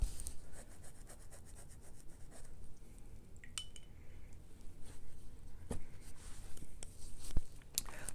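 Watercolour paint being scrubbed off paper with a tissue: soft, faint, irregular rubbing and scratchy brushing close by, with occasional light taps.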